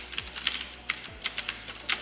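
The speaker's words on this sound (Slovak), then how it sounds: "Stlačam šipky a súčasne aj zvyšné klávesnice a klávesnica funguje ďalej, reaguje na všetko." Keys clatter on a Razer BlackWidow 2013 Expert mechanical gaming keyboard, several pressed at once: a close, steady run of sharp clicky strikes with a few louder thocks, heard alone.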